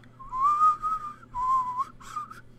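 A person whistles three sustained tones at close range with no other sound, the first two long and steady and the last shorter and wavering.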